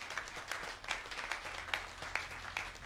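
A church congregation claps together in a steady rhythmic beat during worship, moderately loud and sustained over a low background hum.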